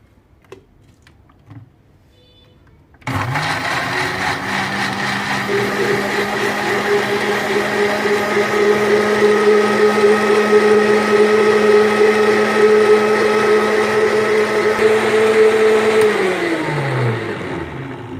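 A juicer blender whirs through lychees with a cup of cold water and sugar in its jug, kicking in abruptly and holding a loud, steady motor drone for about fifteen seconds before winding down, with no talking.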